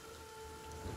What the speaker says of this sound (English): Yeah, acid rain.